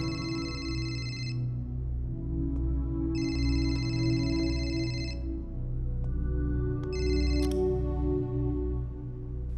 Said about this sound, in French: Tu ne réponds pas? C'est peut-être Samy. Passe-moi le téléphone